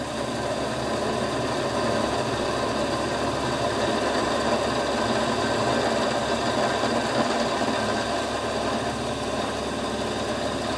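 Continuous machining cut on a rotary table, a steady mechanical whir and grind running without a break at an even, fairly loud level, with no talk.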